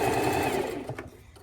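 A sewing machine stitches darts on a gathered halter-neck birthday dress, a close, continuous mechanical whir that slows and fades in the final half second.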